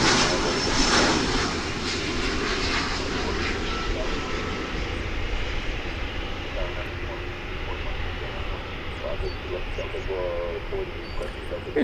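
An American Airlines Airbus A319 jet from Sioux Falls at Dallas Fort Worth Airport makes a sustained engine roar that is strongest at first and slowly recedes, with talk and brief clicks over it.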